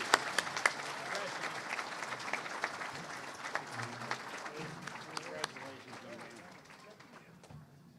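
Audience applause at an awards gala, a dense, steady wash of many hands clapping that tapers slightly toward the end, with faint voices mixed in.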